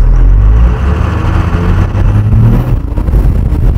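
A 4WD engine at half throttle, pulling steadily with a loud, continuous drone while the wheels spin, the rough low rumble holding throughout with no talk.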